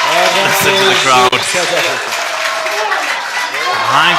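A Davis Cup tennis crowd cheers and applauds loudly, a roaring mass of voices and clapping with rising and falling shouts, close and intense for the whole moment.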